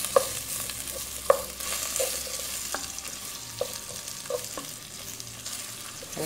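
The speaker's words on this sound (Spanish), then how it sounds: "Sofreímos la cebolla." Onion sautés in a pot with very little fat left over from browned chorizo, giving a steady close sizzle broken by occasional sharp clinks and scrapes of a utensil against the pot.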